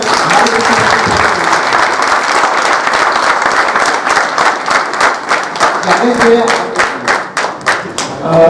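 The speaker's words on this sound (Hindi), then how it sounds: "तो एक बार जोरदार तालियां।" Loud, sustained applause from a theatre audience at a Hindi stage play, dense clapping that gradually thins into scattered individual claps near the end.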